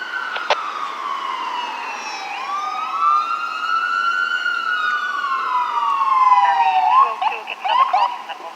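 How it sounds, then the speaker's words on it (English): Ambulance siren wailing as it passes through a major intersection, a long sweeping tone rising and falling, growing louder then shifting as it moves by, heard alone over a faint traffic background. "Any given time, there's an ambulance that passes"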